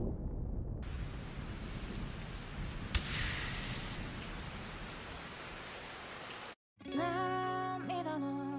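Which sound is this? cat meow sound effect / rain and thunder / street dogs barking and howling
rain and thunder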